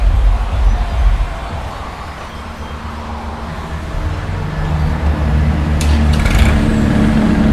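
A 2019 Kubota L3218 tractor, a 32-horsepower three-cylinder four-wheel-drive diesel, cranks and starts, then runs with a close, loud low rumble. A brief rattle comes near the end.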